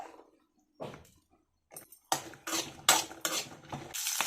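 Chopped green chillies frying in a pan, heard as intermittent clanks and scrapes of a utensil against the pan with faint sizzling, starting sparse and then growing denser and more continuous, close, no talking.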